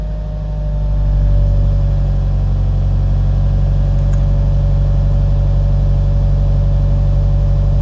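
A car engine in a driving lesson rises as the accelerator is pressed to about 1500 rpm, then holds a steady, loud, close drone with a low hum and no talking.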